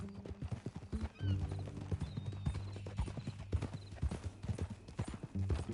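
Horse hooves clip-clop steadily in a Red Dead Redemption 2 ranch scene, a loud rhythmic walking gait with occasional whinnies and faint talk mixed in.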